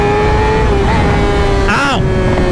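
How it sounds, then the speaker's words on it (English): A Yamaha R6 motorcycle engine roars loudly and continuously through a wheelie, with a sharp rising then falling rev sweep near the end, heavy wind noise underneath. "All right, last wheelie for the boys"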